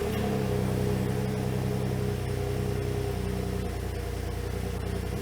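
A Ford F-150 with the 3.5 twin-turbo EcoBoost V6 and factory stock exhaust idles steadily, a low, even engine hum with a constant drone, no voices.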